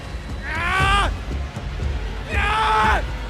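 A man lets out two loud, drawn-out screams, each lasting about half a second, separated by a short pause.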